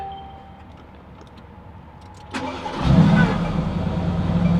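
A 2016 Mercedes-AMG GT S engine cranks and catches, then settles into a steady idle with a low rumble, close by and fairly loud.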